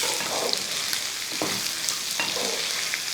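Half-cooked chena (elephant yam) for Kerala-style chena upperi fries in oil, a continuous close hiss broken by a couple of soft stirring scrapes, with no one speaking.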